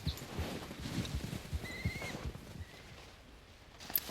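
A horse in Red Dead Redemption 2 gives a clear, rising whinny near the middle, with a steady clip-clop of hooves underneath at moderate loudness.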